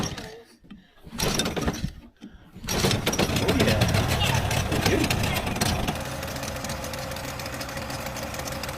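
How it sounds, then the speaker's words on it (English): A 30HP two-stroke outboard motor on a 14ft alloy boat idles with a steady, fairly quiet mid-pitched drone, heard after some handling knocks and bumps near the start, with voices talking over it. "It's nice and quiet for a two-stroke as well."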